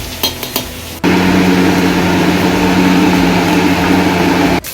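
Mackerel fry in a hot pan with a steady, loud, close sizzle that starts abruptly after a few clatters and holds evenly before cutting off.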